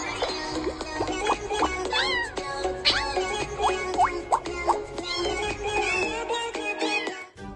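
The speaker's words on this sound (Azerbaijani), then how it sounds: "pişiyə bax." A cat meows repeatedly, a series of short rising and falling cries spaced about a second apart, close and clear over a faint background, with no talking.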